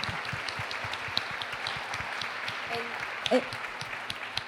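Applause from an audience at an event with a humanoid robot, a soft, diffuse patter of many hands spread through a hall, steady and fairly distant, with a low hum beneath and a brief clack near the end.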